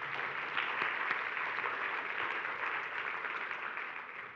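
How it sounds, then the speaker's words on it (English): Audience applause in a church service, steady clapping from a crowd that holds evenly throughout and tapers slightly at the end. "let's give him a round of applause."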